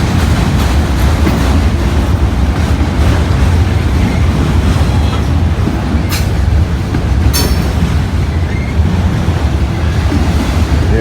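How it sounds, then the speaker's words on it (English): A Norfolk Southern train slows down, its steady, heavy rumble filling the scene from start to finish with a constant wash of wind noise over it and a couple of brief sharp high ticks. "Yeah, that NS train's slowing way down."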